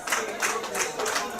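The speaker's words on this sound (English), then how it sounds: "So all you clapping," An audience claps in quick, rhythmic bursts, several claps per second, fairly close and steady throughout the short moment.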